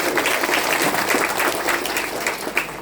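Audience applause at a Yakshagana performance: a steady, dense wash of clapping from a large crowd, sustained evenly throughout with no talk over it.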